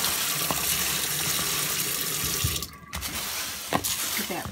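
Water gushes and splashes steadily while being poured off mung beans set to sprout, briefly stopping, then a few drips and clinks follow, with a faint voice in the background.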